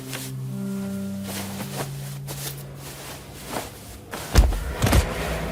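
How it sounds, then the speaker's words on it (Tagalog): Heavy metal cell door slamming shut in a dark horror story setting, two loud booming impacts near the end with echoing reverberation, preceded by low droning tones and softer thuds, with no talking. "Umalingaw-ngaw ang malakas na kalabog ng bakal."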